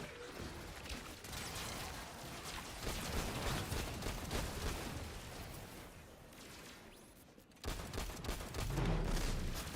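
Enemy gunfire rakes the player in Destiny, a dense, continuous fusillade of rapid shots mixed with mechanical clatter, loud and sustained, briefly dropping off near the end before resuming.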